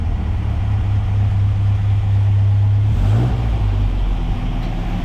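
A 1959 MGA 1600 roadster engine runs close by with a steady low throb, then the pitch rises and settles as it is revved partway through.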